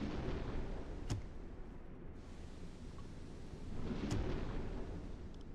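Torpedo launch aboard a submarine in the UBOAT game: a steady low rumble of hull and machinery, broken by two short sharp hissing bursts, the second followed by a swelling surge.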